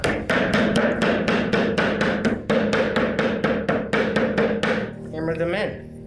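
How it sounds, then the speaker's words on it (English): Wooden wedges are hammered into a wooden desk during assembly: a rapid, steady run of loud, close hammer blows lasting several seconds. A brief quieter scrape follows the blows. "hammer them in."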